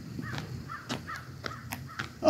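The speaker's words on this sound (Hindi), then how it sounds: "कौवा परिंदा" A lone crow caws several times at a nature preserve in the Smoky Mountains, with short, separate calls spread over a few seconds against a quiet outdoor background, fairly close.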